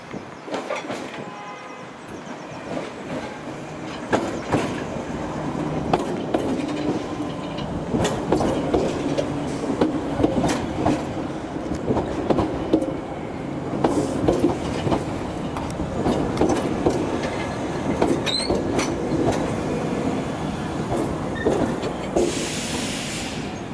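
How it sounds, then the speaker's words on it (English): A London Underground Piccadilly Line train pulls into Cockfosters station, rolling in with rising rumble, clickety-clack of wheels over rail joints and brake hiss, loud and close on the platform. "we got another Piccadilly Line service pulling in."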